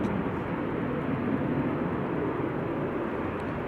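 EasyJet Airbus A320 Classic jet airliner departing Manchester Airport for Amsterdam, a broad steady jet roar at moderate distance, sustained without talk.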